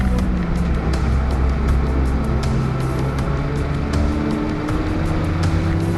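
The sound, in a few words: race car engine in a GTi racing video game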